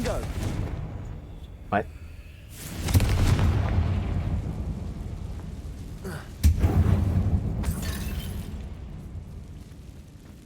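A Confringo blasting spell goes off in the Hogwarts Legacy video game, giving two loud booming bursts with rumbling tails, the first around three seconds in and the second near six and a half seconds, with a brief spoken exclamation early on.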